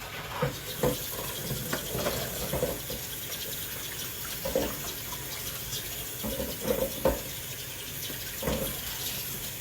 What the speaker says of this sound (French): on passe le moule sous l'eau très chaude